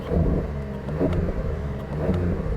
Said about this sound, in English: starting up the engine, you can hear it's got that traditional flat six sound